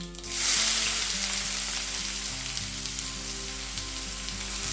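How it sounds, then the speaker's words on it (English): Finely chopped onions hit hot oil with spluttering cumin and cloves, bursting into a loud, bright sizzle that settles into a steady close frying hiss. "Starts spluttering right away, and then in this I'm going to add 2 finely chopped onions."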